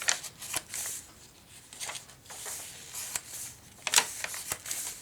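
Paper journal tag handled and folded open, with a run of soft papery rustles and crisp flicks at an uneven rhythm, close and fairly quiet.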